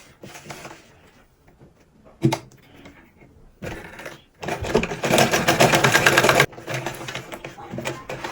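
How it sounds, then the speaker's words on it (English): A sewing machine stitches a padded turban, running in a loud continuous burst after a few quieter stops and starts, with a sharp knock near the beginning and soft talk around it. "So after pinning it down, so I will now sew from here to here."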